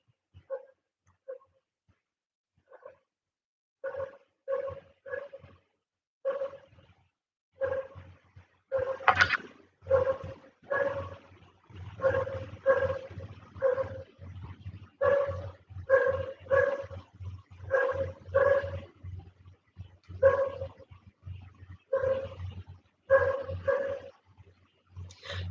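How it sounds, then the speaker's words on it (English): A dog barks again and again, in short bursts that grow denser and louder over roughly twenty-five seconds, clear and fairly close with no talking. "Can you hear the sound of the dog barking?"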